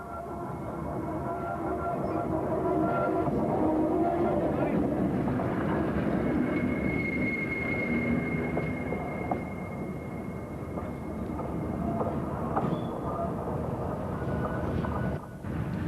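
A Class 76 electric locomotive, number 76056, passes through Victoria on the Woodhead route, giving a steady, loud rumble and rolling noise that fills the whole stretch, with a brief higher whine partway through.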